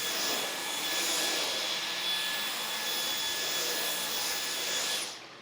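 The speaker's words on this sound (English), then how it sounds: "the Dyson stick vacuum cleaner can get up a significant amount of dirt" A Dyson V10 cordless stick vacuum runs steadily on carpet picking up spilled soil, with a high whine and airy rush, unbroken for several seconds, then powers down and cuts off.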